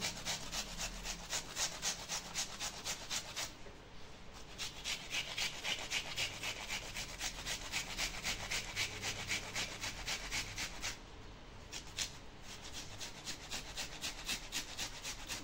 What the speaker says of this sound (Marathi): आता हा कांदा पण मी याच्यात किसून घेते.